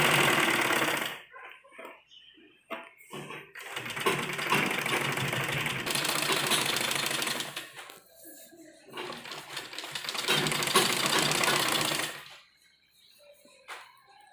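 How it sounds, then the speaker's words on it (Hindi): A sewing machine stitches a kurta sleeve in bursts of rapid mechanical whirring, stopping and starting with quiet gaps between runs, close and fairly loud. "थोड़ी सिलाई लगा लें तो हम देख लेंगे हमारी पूरी बाजू इस तरह से पूरी सिलाई तक मिली हुई है या नहीं"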